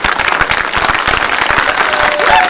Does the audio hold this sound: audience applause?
yes